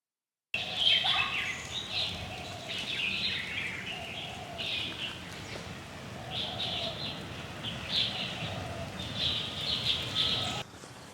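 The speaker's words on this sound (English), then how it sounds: "It's a crisp morning with the birds chirping" Birds chirp and call repeatedly on a crisp morning near a temple in Chengdu, bright bursts of song and tweets recurring over a soft steady outdoor background, some fairly close.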